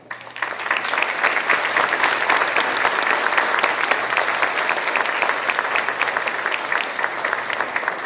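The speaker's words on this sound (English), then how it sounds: "If the 7th grade graders would please stand up once again for another round of applause." A room full of people at a middle school banquet gives sustained, dense applause for standing 7th grade honorees; the clapping stays steady and loud throughout, with no speech.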